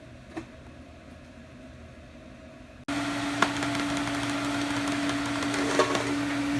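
A steady electrical hum from an Everlast TIG welder running at 120 on mild steel ER70S6 rod starts abruptly partway through and holds evenly, with faint crackles on top.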